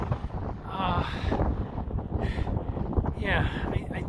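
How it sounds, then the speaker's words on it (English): Strong, cold wind gusts buffet the microphone on a high mountain saddle above 11,000 feet along the Colorado Trail, a loud rumbling roar while a person talks over it. "It's incredibly windy and quite cold here."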